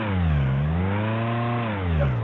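A car engine revs up steadily as it accelerates, a smooth rising and falling hum with strong harmonics, close and loud with no other sounds.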